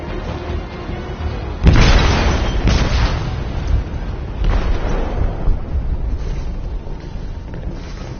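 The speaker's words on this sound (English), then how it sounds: "That bomb's gonna explode!" A bomb detonates aboard a ship in the video game Detroit: Become Human, a sudden loud boom followed by a long roaring rumble, with a second surge of blast noise a few seconds later.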